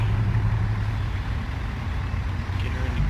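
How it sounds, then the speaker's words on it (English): A big rig's diesel engine in American Truck Simulator rumbles steadily at idle after starting up, a low, even drone that holds level throughout with no talk over it. "let's get some lights on and start the truck up"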